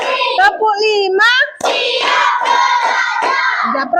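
Group of children in a classroom doing a rhythmic clapping chant led by a teacher, claps mixed with loud children's voices and shouts throughout, close and lively.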